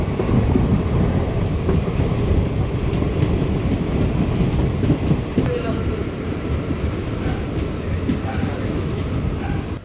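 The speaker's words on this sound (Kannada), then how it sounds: "ನಮ್ಮ ಟ್ರೈನ್ ಬಂದಿರೋದು ಪ್ಲ್ಯಾಟ್ಫಾರ್ಮ್ 2ಗೆ" The Mysore–Talaguppa Intercity Express rolls into a station, its steady loud rumble of wheels and carriages filling the whole stretch with no talk.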